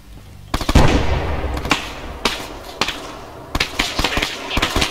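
A frag grenade going off in a video game sets off a burst of sharp, crackling bangs, followed by several more scattered loud pops and cracks at close range.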